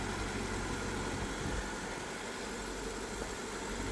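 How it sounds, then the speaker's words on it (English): A BMW E66 740Li V8 idles with a steady, even drone that holds at one level throughout, with no revving and no voices. "as you can see, it just idles perfectly"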